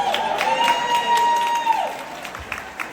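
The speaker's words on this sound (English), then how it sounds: "Please join me to give a warm applause to all our awardees." Audience applause at a fundraising gala for a Khmer health association in America, honoring awardees: a moderate, steady patter of clapping with a sustained tone running underneath, fading near the end.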